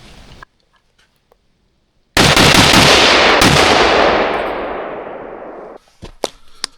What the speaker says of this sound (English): Gonna do a burst fire,